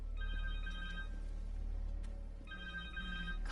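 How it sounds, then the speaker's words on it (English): A cell phone rings in Marvel's Spider-Man 2, a steady electronic ringtone in two bursts with a short gap between them, clear and alone with no talking. "Phone!"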